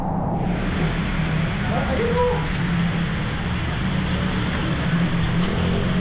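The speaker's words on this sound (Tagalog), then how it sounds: "Medyo malakas pa rin yung ulan, no?" A steady, broadband roar of heavy rain fills the whole clip, constant and loud, with faint murmured voices underneath.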